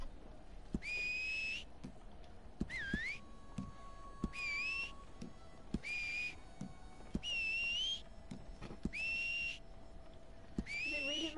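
A character in Red Dead Redemption 2 whistles for a horse again and again, each whistle a short rising or wavering tone separated by brief gaps, with light thuds and faint game ambience beneath.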